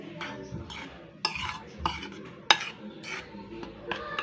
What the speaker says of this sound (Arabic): هنيجي عند الدقيق والبيكنج باودر، هنحطهم على بعض، نقلبهم كويس